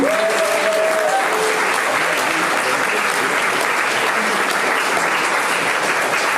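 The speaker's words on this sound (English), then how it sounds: "Put your hands together for everyone." Loud, dense applause from an audience at a Nerd Nite talk night in Melbourne, a steady roar of clapping hands sustained without a break, with faint voices mixed into the crowd.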